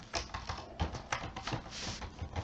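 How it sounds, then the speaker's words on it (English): Quick, close keystrokes on a computer keyboard as a file name is typed, a rapid uneven patter of clicks with no voice. "I'll type a name"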